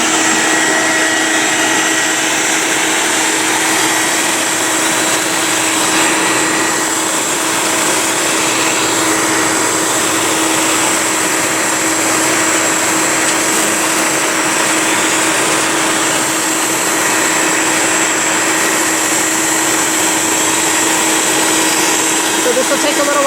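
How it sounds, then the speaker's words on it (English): A bee vacuum runs continuously while sucking up a swarm of bees from a bush, a loud, steady motor whine with a constant hum that holds throughout without a break. "So we're just going to vacuum them a little bit."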